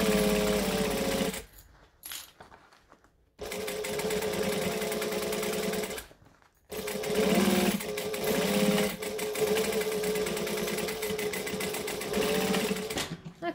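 A domestic sewing machine stitches a seam on a fabric case, running in a steady motor whir with a short pause and a longer stop, then resuming close and loud.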